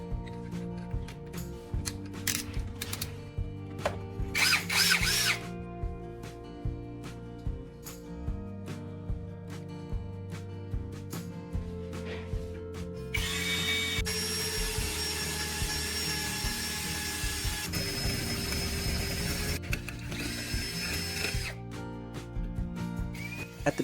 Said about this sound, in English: Install the bit in the drill and test it on this square steel tube.